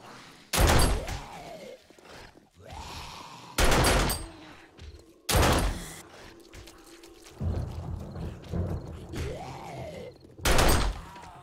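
Uzi bursts ring out in the zombie survival game 7 Days to Die, several loud rapid-fire volleys separated by short pauses, each burst close and punchy with echoing tails and thuds between them.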